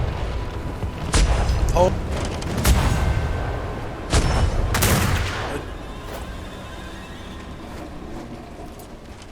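Ship cannons fire from the starboard side in a video game battle, several heavy booms in a ragged volley with crackling impacts, while voices talk over the action.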